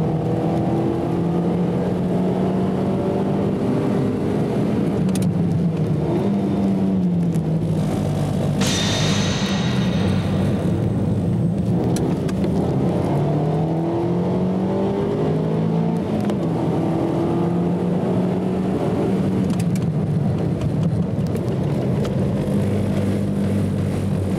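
A car driven hard in an amateur time attack, cornered using steering alone and lifting off the throttle when it slides, with a loud sustained engine note rising and falling through the bends and a brief high-pitched squeal midway.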